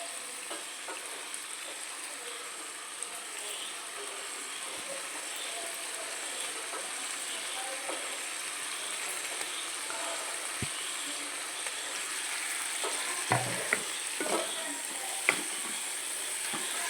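Eggs frying in a pan for a spicy Kerala-style egg roast curry, with steady sizzling throughout and a few louder stirring scrapes and clinks near the end, with no voices.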